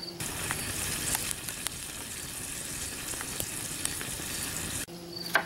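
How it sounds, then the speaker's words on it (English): Meat half-cooking in a Mors bushpot for a one-pot taco scramble: a loud, continuous sizzle and crackle with a few stirring scrapes, cutting off near the end and leaving a quieter tail. "this time we're not going to cook the meat all the way. We're going to cook it about halfway"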